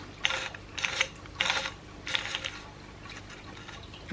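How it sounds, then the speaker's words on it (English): A metal buffer tube is threaded on by hand in a few short bursts of faint scraping, ratcheting clicks separated by pauses, close and quiet with no talking. "now what I'm gonna do is get this buffer tube started. You know, start threading it on"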